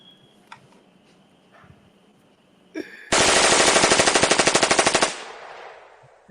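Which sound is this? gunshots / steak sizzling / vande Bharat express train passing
gunshots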